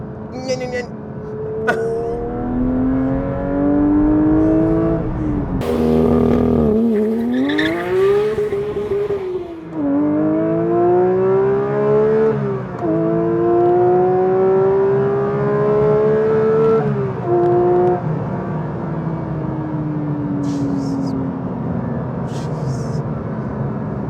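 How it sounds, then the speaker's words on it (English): Porsche 911 GT3 with a manual gearbox revving hard to its 9000 RPM limiter: loud, close engine notes climb and fall in repeated rising sweeps that hold at the top before dropping away. "9000 RPM on the limiter. That's what the limiter sounds like."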